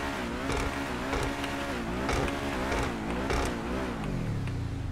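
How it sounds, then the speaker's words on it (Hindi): A second-hand car's stock engine in GTA 5 runs loud and continuous, revving and droning throughout with shifting pitch, and nobody talks. "जो साउंड है ना स्टॉक इंजन के साथ मिल रहा है हमें"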